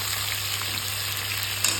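Fish frying in hot oil gives a dense, even sizzle throughout, close and steady, without talk.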